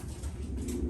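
Soft, low pigeon cooing close by, a brief murmuring call over a quiet background with no speech.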